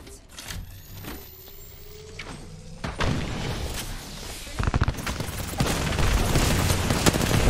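Enemy gunfire in a shooter video game played on a controller: rapid sharp shots crackling close and loud, growing denser and more sustained in the second half over a busy game soundscape.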